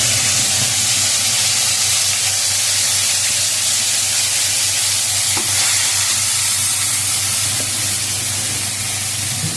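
Ground spice paste of ginger and cumin frying in a hot pan for a bottle gourd and climbing fish curry, a steady close sizzle and hiss with soft stirring scrapes running throughout.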